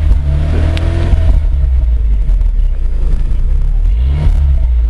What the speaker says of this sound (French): Tu peux accélérer un peu, je vais me mettre derrière.